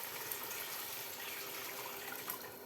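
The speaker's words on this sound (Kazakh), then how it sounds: "Енді осының үстіне су құямын." Water is poured into a pot over fried lamb to start a broth, a steady, soft splashing stream that runs unbroken from start to finish with no voices.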